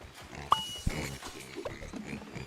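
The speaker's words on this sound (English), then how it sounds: "And I'm about to let out another pig." A pig oinks as it is let out in a video game, giving a few short grunts over rustling, clattering game noise.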